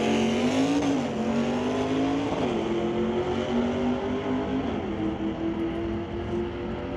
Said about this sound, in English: We hear the turbos spool up in the Falcon.